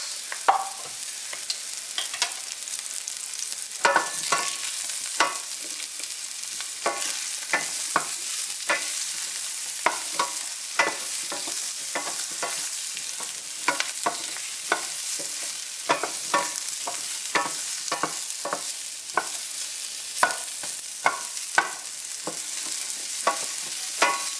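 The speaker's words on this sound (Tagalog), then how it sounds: "Ngayon, igisa na natin bawang sibuyas" Garlic and onion sautéing in a pan, a steady sizzle with repeated scraping and stirring clatters close by, and no talk over it.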